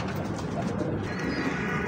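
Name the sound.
Amamdin pigeon cooing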